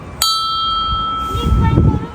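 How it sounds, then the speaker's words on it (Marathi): A small bell in a village temple is struck once, giving a bright, clear ring that hangs and slowly decays while people talk and move nearby. "इथे आता एकदम छोटीशी घंटी आहे"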